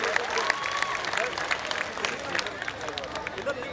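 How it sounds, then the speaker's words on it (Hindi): Audience at a political rally in Kota clapping under a crowded, echoing tent, a fairly faint patter of applause mixed with crowd babble and voices. "ताली बजा के स्वागत कीजिए"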